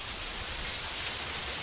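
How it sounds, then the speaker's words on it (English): Heavy rain pours in a steady, dense hiss of drops with no breaks, heard alone without voices. "It's raining heavily."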